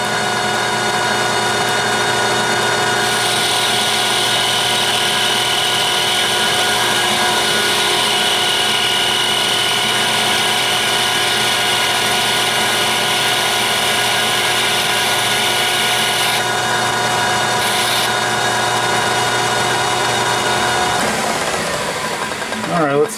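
A lathe turns a 1970 hydraulic steering bolt for a BMW project at 1100 RPM, a loud steady machine whine with layered tones that holds, then changes pitch and winds down near the end.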